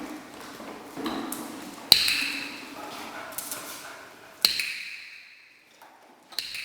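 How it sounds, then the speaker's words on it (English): Sharp, isolated dog-training clicker clicks ring out a few seconds apart while a beagle pulls a cart, over a quiet background with soft rustling and movement. "As I clicked for this forward movement, Teague got the hang of it"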